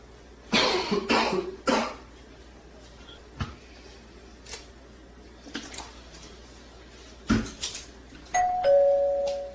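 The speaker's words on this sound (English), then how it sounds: "Sounds like you got a nasty cough." A person coughs hard several times in rough bursts, followed by scattered throat clearing and a single electronic chime near the end.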